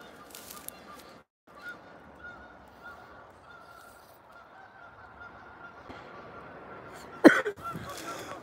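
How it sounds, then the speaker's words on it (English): Geese honking by a creek at dusk, faint and distant over steady outdoor ambience, with one sharper, louder call near the end. "Creek birds."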